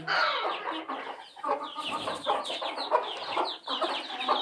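Hens and chicks clucking inside a coop, with a rooster nearby, a busy overlapping chorus of short clucks and chirps, close and lively throughout, no talking.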